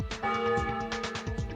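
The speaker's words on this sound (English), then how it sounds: "Freaking ominous bell sound effect." A single ominous bell tolls in the Danganronpa Another video game, a loud ringing strike with a long sustained resonance and a second softer swell, heard alone without voices.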